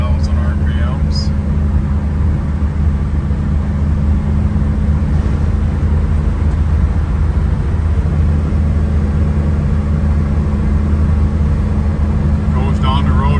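A 1974 Chevrolet Camaro Z28 cruising at about 55 mph and 3,000 rpm, a steady loud low engine drone with road and wind noise heard from inside the car.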